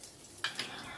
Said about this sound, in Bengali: রসুনটা আগে দিলাম, দিয়ে একটু নাড়াচাড়া করে নিচ্ছি, এই 30 সেকেন্ড মতো।